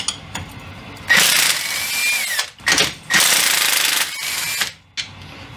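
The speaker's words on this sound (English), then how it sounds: "I just put a wrench on the backside and then an impact gun on this side" An impact gun drives the strut bolts on the front quick-strut of a 2013 Subaru Outback in two long, loud hammering bursts, with short blips between them and a final brief burst.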